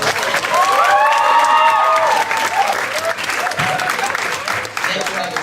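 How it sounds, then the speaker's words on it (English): At a poetry night, a crowd claps and cheers for a poet, loud whoops and hollers riding over the dense applause early on before the clapping carries on alone and slowly eases. "Let me give Jose another round of applause"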